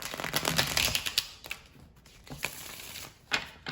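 A deck of tarot cards is shuffled nearby in quick, papery riffles and soft taps, coming in short bursts with brief pauses, with no voices.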